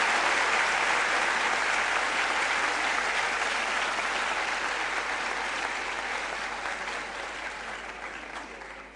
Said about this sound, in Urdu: آپ کا جوش و خروش کہ 200 دفعہ آپ نے تالیاں بجائی ہیں